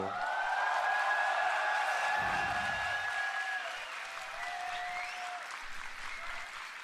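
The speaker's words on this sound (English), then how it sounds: "I really, really respect the energy of the crowd, no matter who they're cheering for." A large crowd at a League of Legends esports match gives steady, sustained applause and cheering, distant and washy, with whistles and shouts rising above the roar.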